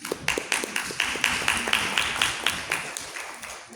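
Applause from a debate audience at a competition round, a steady patter of many hands clapping for about four seconds, fairly close and even, fading slightly toward the end with no talk over it.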